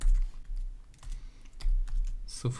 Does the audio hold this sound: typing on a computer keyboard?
yes